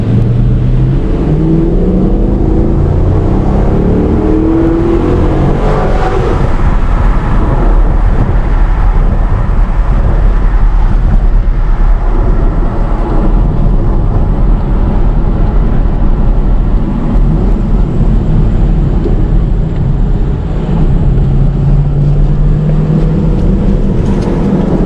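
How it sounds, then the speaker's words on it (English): Road and engine noise inside a 2015 Chevy Camaro SS on the move, a loud continuous rumble with engine pitch sweeping up and down as it accelerates and shifts, tyre roar underneath. "now I'm driving this 2015 Camaro SS"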